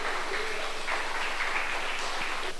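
A church congregation applauding in praise of the Lord, a steady, fairly soft wash of many hands clapping throughout, with no distinct voices over it.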